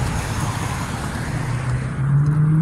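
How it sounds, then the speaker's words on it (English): A Tesla car passes by on a road, a steady, close rush of tyre and traffic noise that swells slightly toward the end. "There's a Tesla."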